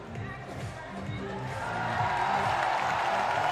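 Crowd noise at a men's bouldering final in Prague swells from a murmur into broad cheering and whooping, growing louder and fuller over a few seconds, under a commentator's voice.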